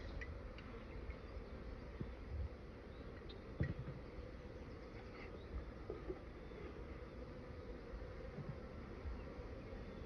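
Honeybees buzz at a beehive in a dense, steady low drone, a swarm-like hum filling the whole stretch with faint occasional ticks.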